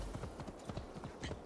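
Horse hooves clip-clop in a quick, even rhythm in Assassin's Creed Valhalla. The close, steady trotting beats come over a soft background hiss.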